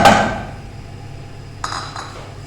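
A clank of metal as jaggery is dropped into a cooking pot for sweet rice, one sharp hit followed by two faint clinks, close and alone.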